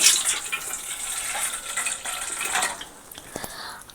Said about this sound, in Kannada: ಸ್ವಲ್ಪ ಸಾಲ್ಟ್ ಹಾಕೊತೀನಿ ಫಸ್ಟು ಅದಾದಮೇಲೆ ಸ್ವಲ್ಪ ಬಿಸಿನೀರು